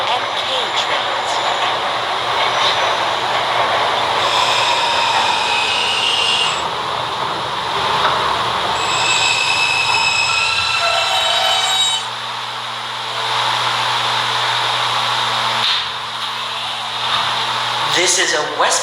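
A B subway train runs along the line with a steady, loud rumbling roar of motors and wheels that swells and eases slightly, under recorded announcements.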